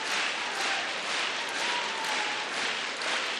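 A crowd at a gymnastics World Cup competition in Cottbus applauds a gymnast on the uneven bars, a dense, continuous wash of clapping that swells slightly, heard from the arena without voices over it.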